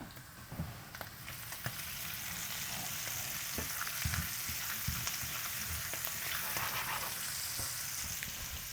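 Chicken legs fry in a pan with a loud, steady close sizzle, broken by occasional stirring scrapes and taps, with no voices.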